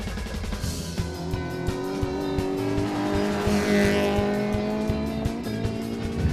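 A modified Suzuki Sierra 1.3 litre races around a short-course rally track at Caboolture, its engine revving hard and close with sustained roar, shifting pitch and tire squeal throughout.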